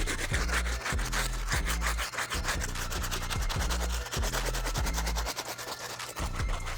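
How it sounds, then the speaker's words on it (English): Stiff bristle brush scrubbing a sneaker midsole in a steady back-and-forth rhythm, close and loud, with rasping strokes repeating about once a second and no talking. "time for me to get back on it with the stiff bristle brush"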